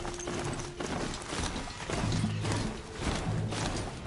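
Hoofsteps of a strider mount from Horizon Zero Dawn beat in a quick, steady clip-clop rhythm, close and fairly loud, with faint mechanical undertones and no talking.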